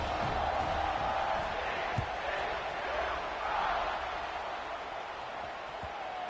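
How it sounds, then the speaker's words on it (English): A stadium crowd at a college football game in NCAA 25 keeps up a steady, broad roar throughout, with commentary talk running over it. "They're set to kick it off, and this crowd now ready to get behind them."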